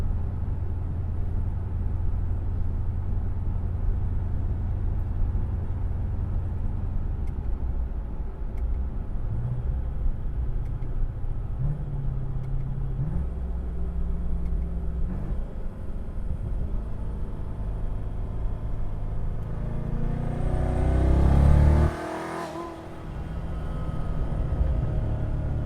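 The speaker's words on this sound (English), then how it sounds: "Turbos sound great, blow off valves, car sounds amazing." A twin-turbo 2016 Corvette Z06 with a built motor and blow-off valves drones as a low, steady engine rumble from inside the car, its pitch stepping up through gears before a brief sharp whoosh and a drop.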